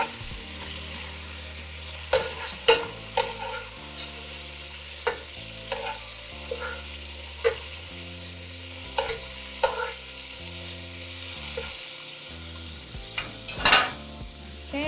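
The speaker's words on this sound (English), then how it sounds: "we're just going to allow our meat to brown" Meat browns in a pozole pot with a steady low sizzle, broken by occasional scrapes and knocks of a utensil stirring against the pot; no one speaks.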